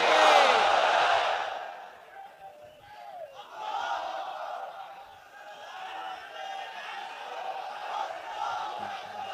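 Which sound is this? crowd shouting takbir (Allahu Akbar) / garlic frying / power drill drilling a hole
crowd shouting takbir (Allahu Akbar)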